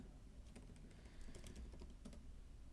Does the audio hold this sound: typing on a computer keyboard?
yes